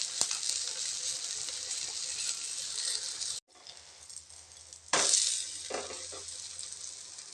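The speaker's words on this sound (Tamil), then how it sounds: "உள்ளெல்லாம் மசாலா இறங்கி ஒரு 2 நிமிஷத்துக்கு மெதுவாக வேகட்டுங்க" Goat brain omelette cooking in a pan, a soft steady sizzle that cuts out briefly, then returns with a louder burst and a few clattering knocks, fairly quiet overall.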